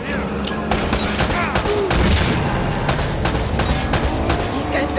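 Dense, continuous gunfire from the Uncharted video game, with rapid overlapping shots and bursts filling the whole stretch at close, loud range, while voices occasionally speak over the battle.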